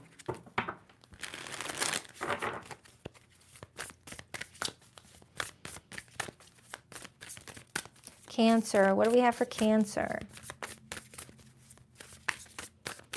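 Close, crisp papery riffling of tarot cards being shuffled in short bursts, mixed with a person talking in the foreground.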